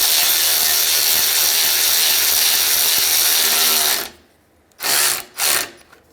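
A bolt tightened on a 2003-2011 Honda Element A/C condenser with a ratchet, a loud continuous run of fast clicks for about four seconds, then two short bursts of ratcheting after a pause.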